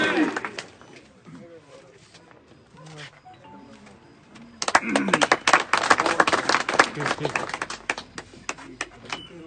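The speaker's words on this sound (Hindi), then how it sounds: "एक बार जोरदार तालियों" A crowd at an outdoor political rally for a BJP candidate breaks into applause, sparse at first under a man's amplified speech, then swelling into dense, loud clapping for the last several seconds.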